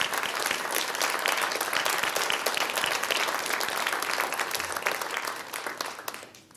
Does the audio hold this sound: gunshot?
no